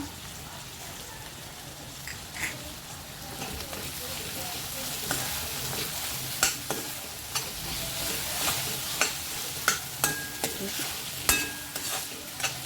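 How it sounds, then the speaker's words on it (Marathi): Tomato and ginger-garlic paste hit softened potatoes and pink onions in a pan for moong dal khichdi, a steady sizzle under repeated spoon scrapes and clinks that tick irregularly throughout, close and moderately loud. "ह्याच्यात आपण टॅमॅटो टाकूया आलं लसणीची पेस्ट टाकूया"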